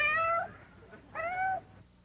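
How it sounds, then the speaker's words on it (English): A pregnant house cat gives two distinct meows, the first brighter and the second longer with a falling pitch, close by and fairly quiet, separated by a short pause over a low room hum. "How come you brought along the pussycat?"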